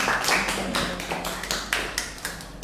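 A small group in a classroom gives a round of applause, with uneven, fairly close hand claps over a couple of seconds.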